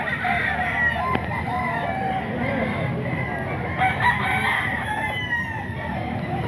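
Game fowl roosters crow repeatedly over ongoing clucking and farmyard background, with several overlapping calls near and farther off across the stretch.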